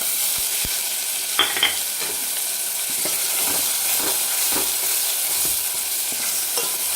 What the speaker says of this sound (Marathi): हे जे आपण खोबरं खोबरं आणि कांद्याचं वाटण होतं ते टाकून घेऊ लगेच